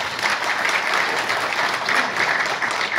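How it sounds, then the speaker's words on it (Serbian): An audience at a beekeepers' conference applauds warmly, with dense, even clapping that sustains for the whole moment, close and loud, with no voices over it. "Molim se na aplauz."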